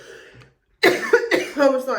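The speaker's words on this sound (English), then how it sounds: "I'm really sorry about my coughing, guys." A person coughs a few times in quick, harsh bursts after a brief pause, close to the microphone.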